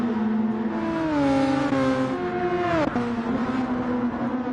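Race cars in Gran Turismo 7 at Monza, an engine whining at a high steady pitch that shifts down and back up with gear changes as a car slipstreams along the back straight, close and continuous.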